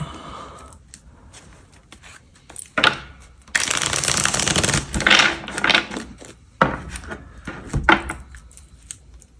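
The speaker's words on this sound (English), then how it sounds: "gonna cut this deck" A tarot card deck is cut and shuffled up close: crisp riffling bursts and soft card slaps in several rounds, with no talking.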